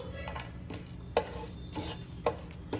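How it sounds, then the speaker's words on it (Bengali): Bay leaves, cinnamon and a dry chilli roast in a pan for chicken biryani, a quiet steady sizzle under the sharp scrape and clack of a spatula stirring every second or so, heard up close. "এবার এটাকে ভালো মতো রোস্ট করব"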